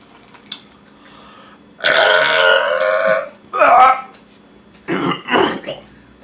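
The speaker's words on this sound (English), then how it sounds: "Let's do a burping challenge." Loud, drawn-out burps during a burping challenge: one long croaking belch, then a shorter one, and two more brief burps near the end, with quiet gaps between.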